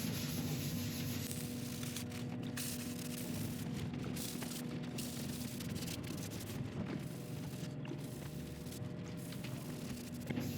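Epoxy resin coats on a turned wooden bowl are sanded back with a continuous, moderately quiet rubbing hiss broken by brief gaps and light knocks.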